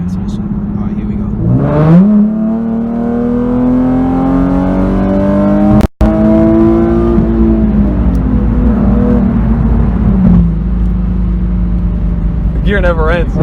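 A modified, loud 2011 Infiniti G37xS coupe accelerates at full throttle, its engine note climbing steadily through the revs, dropping at a quick gear change and rising again, heard from inside the car.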